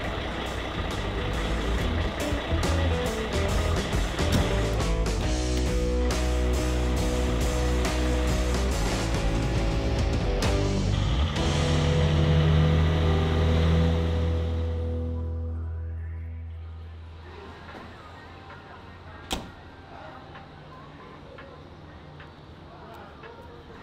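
A road train prime mover truck pulls out, its loud diesel engine rumbling and building steadily for about twelve seconds before it fades into the distance, leaving a quieter idling hum with a brief sharp click near the end.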